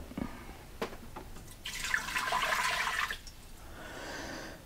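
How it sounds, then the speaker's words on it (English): Two cups of water pour into an Instant Pot in a steady splashing stream lasting over a second, followed by a softer trickle, close and moderately quiet. "I'm going to go ahead and put 2 cups of water into my Instant Pot."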